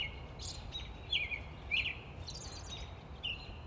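Faint bird chirps and short calls sound every half second or so over a quiet outdoor hush at Emiquon, a 6,000-acre restored wetland preserve along the Illinois River.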